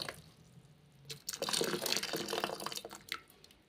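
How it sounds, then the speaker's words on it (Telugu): Hot water splashes and gurgles as it is poured into a part of a top-load washing machine during a home repair, starting quietly and swelling into a steady close pour before tapering off. "బాగా మసలేటి నీళ్ళు పోయాలండి ఇందులో."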